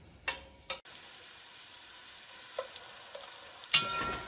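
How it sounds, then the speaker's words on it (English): Zucchini cooks in a pan for a veggie chili, a low steady sizzle broken by a few sharp utensil knocks and scrapes against the pan, close and with no talking. "the zucchini will keep cooking and you don't want it to really fall apart in the pan"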